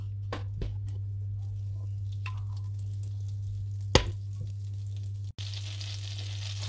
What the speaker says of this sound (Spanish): Vamos a poner un trozo de mantequilla, un poquito de aceite, para que no se arrebate la mantequilla, no se queme.